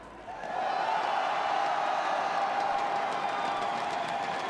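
A Clash Royale esports tournament crowd applauding and cheering for a player, a steady dense wash of clapping and whoops that rises quickly and holds at an even level throughout.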